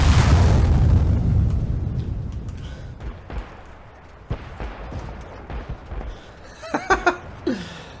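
A tank's ammo rack exploding in World of Tanks, a heavy deep boom at the start rolling into a long fading rumble, followed by scattered softer impacts and a voice speaking briefly near the end.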